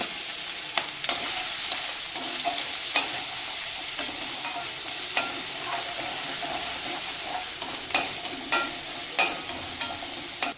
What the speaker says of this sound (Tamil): ஹீட் ஆகிடுச்சு, இஞ்சி பூண்டு சேர்த்துடலாம்.